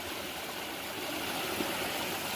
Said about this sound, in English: this river flows all the way down